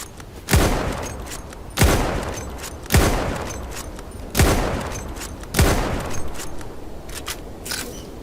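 Gunshots in a Kar98 video game, five loud evenly spaced booming shots about a second apart, each with a decaying tail, followed by a softer final shot.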